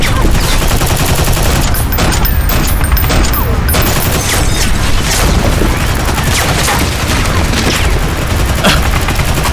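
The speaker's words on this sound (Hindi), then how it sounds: "संभल कर, उनके पास हैवी मशीन गन है।" Heavy machine gun fire roars in an action scene from a Hindi-dubbed Hollywood movie, a dense, loud, continuous barrage of bursts and booms filling the whole stretch.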